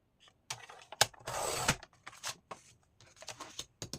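A paper strip is cut in half, giving crisp, close snips and one longer sliding rasp among scattered light rustles, with no voices.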